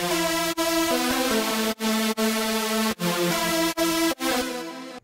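Dry synth lead built from a stack of detuned saw waves, no effects, playing a short stepwise melody in clipped, separated notes, loud and upfront with no voices.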